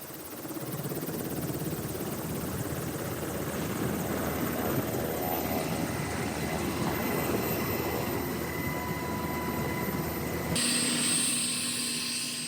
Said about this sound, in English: that was our ride there, that Black Hawk helicopter